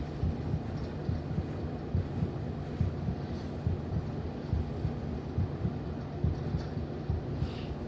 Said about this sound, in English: I do not like this heartbeat.